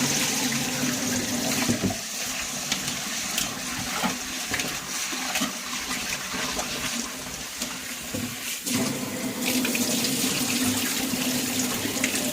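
Sorghum grains are rinsed in water, swished and splashed repeatedly in a vessel; a continuous, fairly loud sloshing and pouring with brief pauses, no voices.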